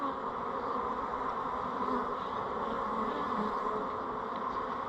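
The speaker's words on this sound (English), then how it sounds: "Starting to get a little pissy too" Agitated honey bees during a hive cut-out, a dense, continuous buzzing swarm drone, close and steady throughout with no pauses.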